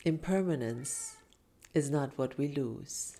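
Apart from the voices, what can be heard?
cat meowing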